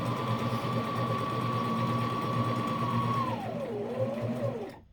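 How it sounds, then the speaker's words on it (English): A sewing machine hums steadily through a straight stitch on wool, close and continuous with an even mechanical whir that dips in pitch near the end before stopping. "Switch back to a straight stitch, and then sew straight."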